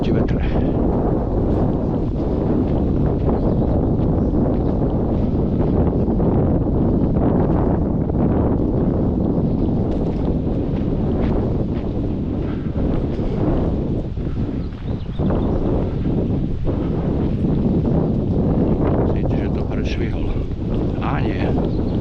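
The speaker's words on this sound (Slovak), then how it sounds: "a to budeme naproti vetre." Strong wind buffets an outdoor microphone in a continuous loud rumbling roar that lasts throughout, with occasional faint voices underneath.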